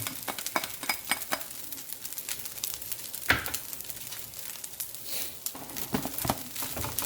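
Corn tossed into a hot frying pan of fried rice, a steady close sizzle with crisp clicks and scrapes of stirring, several sharper pops scattered through, no talk.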